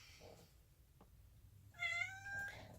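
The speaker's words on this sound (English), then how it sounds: "Oh, my cat." A pet cat meows in a kitchen while vegan gluten-free Earl Grey tea cakes are being made, one drawn-out, rising-and-falling meow near the microphone after a quiet stretch with faint room noise and a soft knock.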